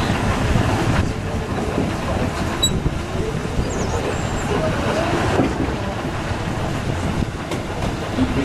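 A steam locomotive slowly overtaking on a German railway, its steady rumble and wheel clatter rolling past at close range over wind buffeting on the microphone.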